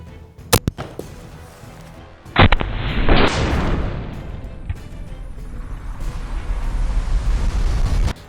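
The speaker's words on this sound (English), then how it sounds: "Next up, we have the Benelli M4 with Federal Flight Control, a pretty commonly used 12 gauge round" A Benelli M4 shotgun fires a single 12 gauge Federal Flight Control round at a helmet in a loud, sharp blast. A sustained rumbling roar follows, with a couple of sharp clicks just before the shot.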